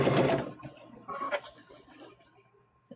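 A sewing machine stitches a welding hat band in a short, quick whirring burst, then slows into a few fainter intermittent stitches close by.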